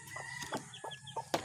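Black mother hen with young chicks clucking nearby, several short soft clucks spaced apart with faint cheeps between them, fairly quiet.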